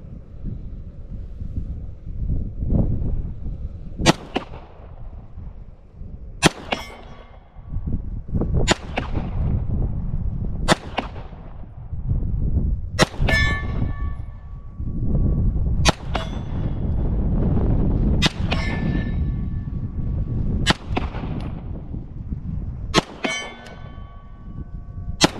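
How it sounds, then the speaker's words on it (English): A Beretta M9A3 pistol fires about ten shots at a steel target 50 yards downrange. Each sharp report is followed by a ringing clang from the steel, irregularly spaced, over outdoor wind noise. "I'm gonna take some shots on our steel target down there, and we'll see if we can get some hits"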